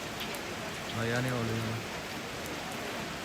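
Steady rain falls in a village in Toraja Utara, a soft constant hiss beneath a brief spoken phrase near the middle.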